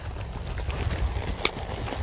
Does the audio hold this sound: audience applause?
no